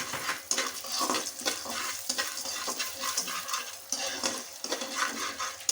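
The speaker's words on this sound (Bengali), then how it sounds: "দিয়ে নিয়ে আবারও ভালো করে একটু নেড়ে চেড়ে নেব।" Corn kernels for popcorn frying in a pan are stirred, with a steady sizzle of hot oil under repeated scraping and clinking of a utensil against the pan. The sound is close and moderately loud, with no speech.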